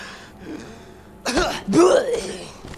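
A person lets out a sneeze in two quick, close, explosive bursts, the second louder and longer, after a quiet lead-in.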